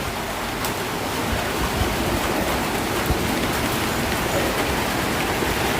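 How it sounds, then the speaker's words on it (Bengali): Heavy rain pours steadily onto a village house courtyard, a dense, even hiss of falling water with scattered drop impacts and no voices. "বৃষ্টি লাগা থাকাতেই উঠানে কিন্তু একটুও নামা যাইতেছে না"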